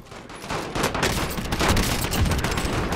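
SCAR-H rifle fire in Modern Warfare Warzone, a dense rapid stream of sharp gunshots with booming echoes throughout, loud and close.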